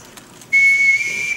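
A single sustained, high-pitched signal whistle sounds for about a second, clear and close, blown to call children forward.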